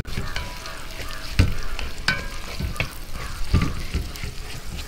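A spoon stirs banana halwa with cashews in a hot pan, giving a soft continuous sizzle broken by scraping strokes and a few sharper knocks against the pan, close by.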